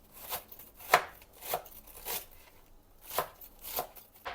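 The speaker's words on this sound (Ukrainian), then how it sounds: "Поки тушкується м'ясо, ми будемо нарізати овочі." A knife chops light summer cabbage on a board, a handful of crisp separate cuts spaced unevenly, fairly close and moderately loud with no talk.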